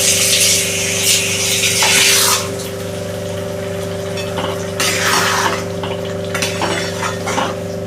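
Rinse water from a mixer jar is poured into a pan holding a cashew, raisin, poppy seed and sour yogurt paste for pointed gourd korma: a loud, close splashing gush for about two seconds, then quieter clinks and trickles over a steady hum.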